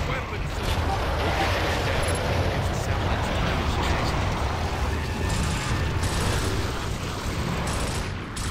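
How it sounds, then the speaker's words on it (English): Burst-fire rifle gunfire in Gears of War, a dense, continuous clatter of rapid shots and explosions at steady loudness throughout. "Because it's burst fire, not individual shots."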